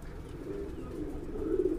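A Madrasi pigeon coos softly over a low steady background hum, the murmuring calls rising a little toward the end of the short stretch.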